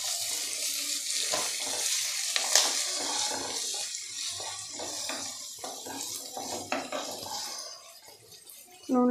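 Prawn curry paste frying in hot oil in a pan, a steady broadband sizzle and hiss that runs continuously at moderate level, with a few clinks and scrapes over it and no talking.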